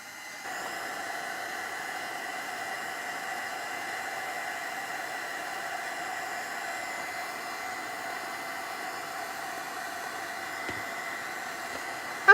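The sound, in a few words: hair dryer drying rust paste on an old camera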